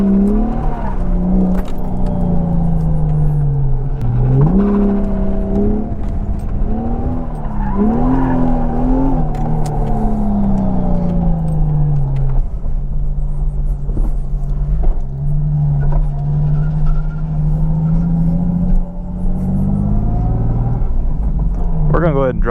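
A car with a welded differential drifting at night: a loud, close engine revs and drones continuously, with tires squealing and skidding as the pitch rises and falls throughout.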